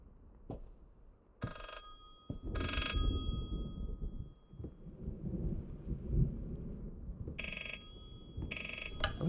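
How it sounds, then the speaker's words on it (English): An old telephone rings repeatedly in the horror video game Layers of Fear, paired bell bursts returning at intervals over a low rumbling ambience, fairly quiet. "I wish the phone would stop ringing."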